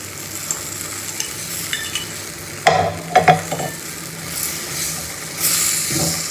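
Eggs fry in a thin pan, a steady close sizzle with brief scraping and stirring clatter midway; no voices.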